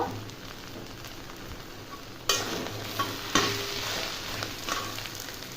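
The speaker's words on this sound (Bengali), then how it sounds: "ভালো করে মিশিয়ে আলুটাকে কষে নেব।" Spiced potato filling with salt, amchur and coriander is stirred and fried in a pan, a steady low sizzle broken by several sharp scraping strokes of a spoon.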